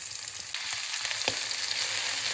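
Onion and garlic sauté in a pan, a close, steady frying hiss with light stirring scrapes throughout.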